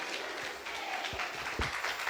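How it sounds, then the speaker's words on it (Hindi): A church congregation at a Sunday service in Itanagar, Arunachal Pradesh claps on a preacher's call, with a few sharp claps standing out over a murmuring room and faint background noise. "जोर से एक बार ताली बजाओ"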